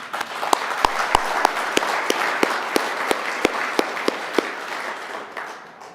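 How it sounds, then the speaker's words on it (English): An audience applauds steadily, a dense wash of clapping with a few louder nearby claps standing out before it fades slightly at the end. "Please give them a round of applause."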